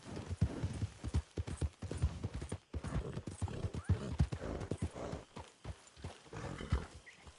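Rapid hoof clip-clops of a horse on hard ground in Red Dead Redemption 2, steady and close, with a brief pause midway before the trotting rhythm resumes.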